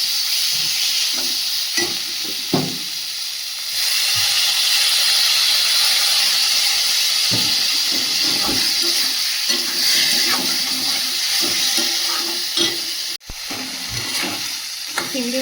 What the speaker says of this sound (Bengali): চিংড়ি মাছটা মশলার সাথে বেশ ভালোভাবে কষিয়ে নিয়েছি